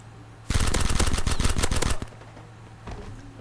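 A rapid, dense burst of P90 automatic gunfire in the video game Forward Assault lasts about a second and a half, followed by a fainter distant shot.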